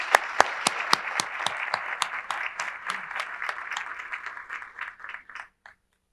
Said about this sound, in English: One more round of applause for Monet